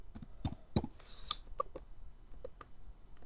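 Keystrokes on a computer keyboard while entering data in an Excel spreadsheet, a quick irregular run of clicks with a few louder taps near the start, close and fairly quiet, with no talking.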